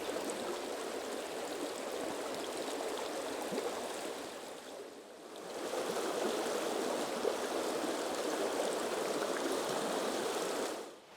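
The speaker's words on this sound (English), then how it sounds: "deep in the woodland just outside of the village of Mells, with the river just babbling down, is the remains of James Fussell's ironworks" A river babbles steadily through woodland just outside the village of Mells in Somerset, a close, continuous rush of flowing water with a brief dip midway and no voices.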